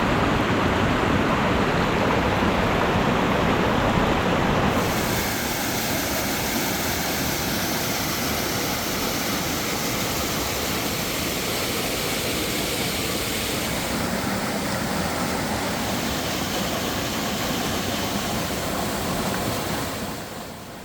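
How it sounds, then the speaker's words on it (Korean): Mountain valley stream rushing over rocks, a dense, steady wash of water noise, loud and close, running unbroken for about twenty seconds. "시원한 계곡물에 발을 담그고"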